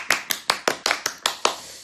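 Eight crisp hand claps land in a quick, even rhythm, close and fairly loud, as a K-pop idol live broadcast celebrates an extra concert day being added; no voices are heard during the claps.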